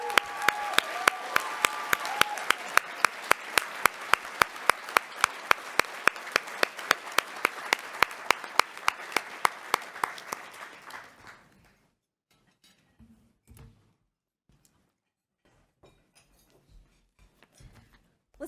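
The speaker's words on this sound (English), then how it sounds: "let's give them a warm round of applause" An audience at a workers' gala claps warmly for honoured guests, a strong burst of applause with sharp individual claps standing out, cutting off after about eleven seconds into quiet with scattered room noise.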